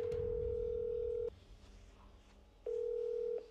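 Ringback tone of an outgoing phone call, two long steady electronic tones separated by a pause, heard close on speakerphone with faint background noise.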